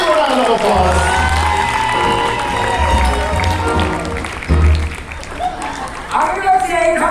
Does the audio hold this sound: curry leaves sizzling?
no